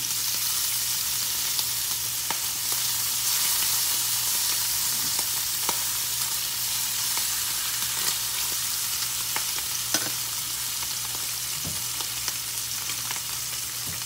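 Bacon sizzles steadily in a dry pan with no added oil, a dense, even crackle with occasional sharp pops and light taps throughout.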